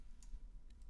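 A few soft, quick clicks of computer keyboard keys being typed, faint and close in a quiet room, spaced irregularly over under a second.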